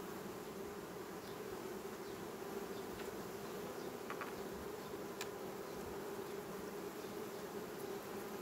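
Honey bees buzz steadily at an opened hive during colony work, a continuous droning hum with no pauses and faint small knocks, alone without talking.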